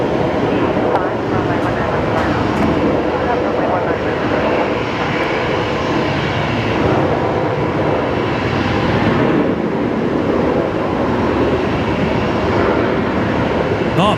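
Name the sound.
Qantas airliner arriving on runway 19 left, Brisbane Airport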